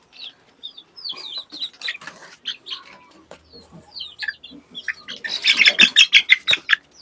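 Free-range desi chickens kept in a small backyard flock cluck and squawk nearby in short, uneven bursts, then grow louder and busier as several birds call at once near the end.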